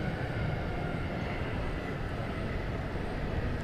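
A Boeing 737-800 departs toward Minneapolis-St. Paul at DFW Airport, a steady broadband jet roar that stays loud and even throughout without any talk.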